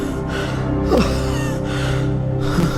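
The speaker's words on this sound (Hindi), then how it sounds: "मैं रुककर हांफने लगा।" Heavy, breathy panting and a sharp gasp from someone who has just stopped running, used as a horror story sound effect. The ragged breaths come close and alone, rising and falling over a few seconds.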